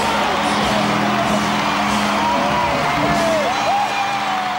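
A large arena crowd roars continuously for the Wildcats' 1995 NBL championship win, a dense wash of cheering with scattered whoops and yells rising above it, loud and sustained throughout.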